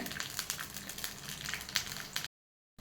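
Mustard seeds sizzling in a teaspoon of hot oil for tempering a temple-style sweet pumpkin sambar, a close, steady frying hiss peppered with small pops that cuts off abruptly.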